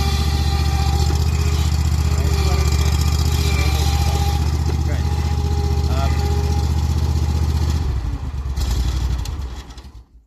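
A zero-turn lawn mower engine runs with a steady, loud, close drone, while a voice talks over it; near the end the engine note drops and fades away.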